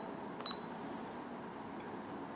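A Fuji FinePix F20 digital camera gives a single short, high electronic beep near the start, alone over faint room noise.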